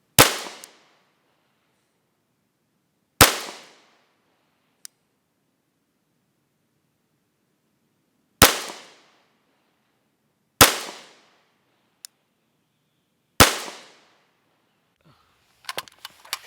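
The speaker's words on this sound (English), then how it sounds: "We are shooting at 100 yards and we will be shooting at that piece of paper there" A BCM-barrelled rifle fires Federal XM193 ammunition at 100 yards: five loud, sharp cracks spaced a few seconds apart, each with a short decaying echo, with faint clicks and handling noise between and after them.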